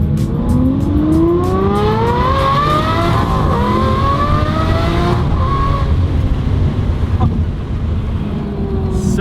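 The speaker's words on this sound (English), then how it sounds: "before we go in the show, we gotta do one acceleration as always" A car accelerates hard at a car show, its engine rising in pitch through several gear changes, loud and close for most of the stretch before it eases off.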